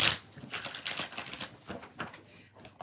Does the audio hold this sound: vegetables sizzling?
no